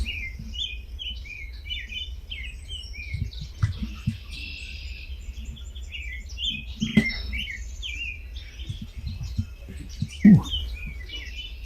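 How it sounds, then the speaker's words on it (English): American robin and red-winged blackbird sing and call outdoors in a dawn chorus: clear whistled robin phrases and the blackbird's buzzy song, with chirps scattered throughout against a low background rumble. "American robin, red-winged blackbird"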